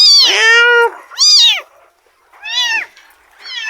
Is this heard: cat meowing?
yes